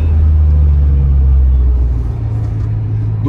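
Engine drone inside a moving 1990 Subaru Sambar Dias2 AWD supercharged kei van with a CVT, cruising around 60 near 4,000 RPM. The low rumble holds steady and loud throughout, with a faint voice in the background.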